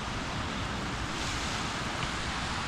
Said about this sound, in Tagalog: tabing dagat